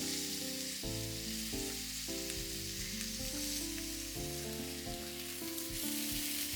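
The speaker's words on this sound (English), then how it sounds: "I reheat the pan and turn down the heat. And I return the pork. I grill it for more 3 minutes." Miso-marinated pork grilling in a reheated pan over lowered heat gives a steady, close sizzle and spatter throughout, with a low tonal hum running beneath the frying.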